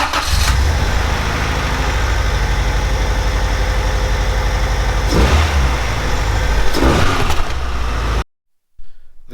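A Honda del Sol with a B20 engine cranks and fires, then settles into a steady, loud idle close to the microphone, with a couple of brief revs before cutting off abruptly near the end.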